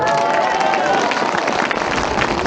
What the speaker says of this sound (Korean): 유영아 변호사 고생했다고 박수 한번 해주세요